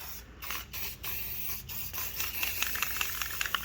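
A nearly empty spray paint can sputters in short bursts, thin hissy spurts and clicks of the nozzle, faint and close, with no talking.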